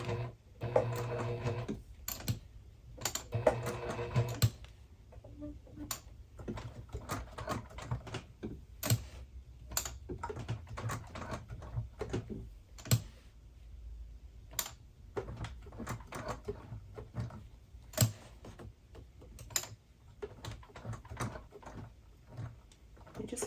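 A sewing machine stitches a crossbody bag in short bursts of rapid clattering, stopping and restarting often between sharp clicks, close and fairly quiet.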